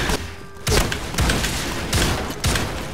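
Shotgun blasts from the video game Point Blank, four loud, sharp booms spaced roughly half a second apart, each with a short ringing tail over steady game background noise.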